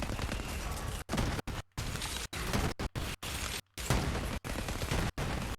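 Rapid gunfire and rocket blasts in Borderlands 3, dense bursts of shots and explosions crowding together with brief silent gaps between volleys, loud and continuous with no talk.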